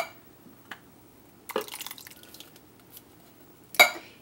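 Canned diced tomatoes are poured into a crock pot, giving soft, wet plops and squelches in a few brief bursts with a sharper splat near the end, close but fairly quiet, with no talking.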